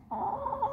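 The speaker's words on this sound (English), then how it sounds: "it's tough being a chicken in Christchurch" Chicken clucking in Christchurch, New Zealand, a short steady burst of close, fairly loud hen vocalisation with no talk over it.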